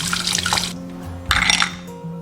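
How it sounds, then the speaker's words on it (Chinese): Abalone washed under a running kitchen tap, two bursts of splashing water close by, separated by a short pause, with no talk. "把这些鲍鱼给它清洗干净。"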